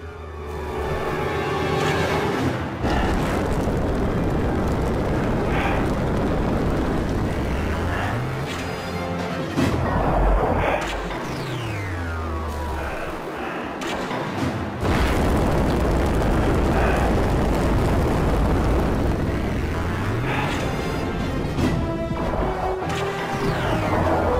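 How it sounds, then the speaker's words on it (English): Phaser fire in a video game blasts at vents amid a dense, loud wash of explosions, booms and crashes, with sweeping energy tones rising and falling throughout. "Perhaps our phasers will work. Worth a shot. It works! Keep shooting out those vents!"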